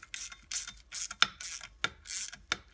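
Screws being driven down on the cover of a Bosch alternator, a close series of short ratcheting, rasping bursts in an uneven rhythm with sharp clicks between them.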